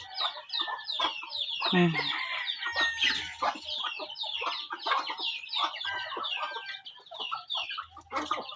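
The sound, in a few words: chickens and chicks clucking in a coop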